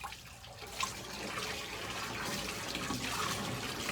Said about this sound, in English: So I just rinse it in cold water.